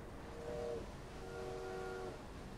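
A train rumbles along in Assassin's Creed Syndicate, its steady rolling drone broken by two tonal horn or whistle blasts, the second longer, with no talk.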